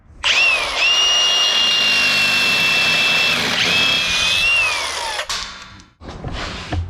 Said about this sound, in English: Half-inch drill bit.